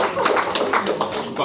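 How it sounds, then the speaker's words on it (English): Comedy club audience applause during a stand-up show, a brief burst of scattered clapping from a live crowd, fairly close and lively, with talk mixed in. "Give them a round of applause"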